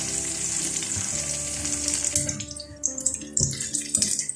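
Golden fried chicken cubes tipped into a pot of chicken soup: a loud steady sizzle and watery bubbling that drops away partway, followed by a few sharp splashes and clatters.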